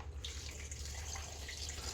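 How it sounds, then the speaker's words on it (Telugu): Water pours from a tap or vessel into a pot holding mutton paya pieces with turmeric and ginger-garlic paste, a faint, steady splashing stream under a low background hum. "ఈ ముక్కలన్నీ మునిగేలాగా వాటర్ పోసుకోవాలన్నమాట"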